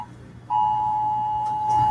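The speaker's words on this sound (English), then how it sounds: "You've been getting texts? Oh, yeah. It's your phone." A phone's text message alert beep rings out loud and close in a room where a workshop is going on, one steady tone held for well over a second with no talk over it.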